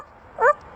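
A talking parrot imitates a dog's bark with one short, clear, harmonic yelp, fairly close and alone over quiet background hiss.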